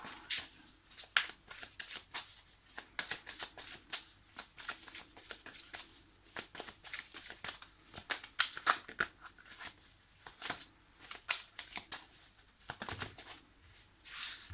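Tarot cards being shuffled by hand, a steady run of crisp riffling and flicking bursts, close and fairly quiet, with no talk over them.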